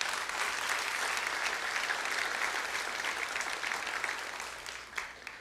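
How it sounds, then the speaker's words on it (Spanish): A church congregation claps together after the sermon, a fairly quiet but dense patter of hands that continues steadily and fades toward the end. "Si quieres darle un aplauso a Dios por eso."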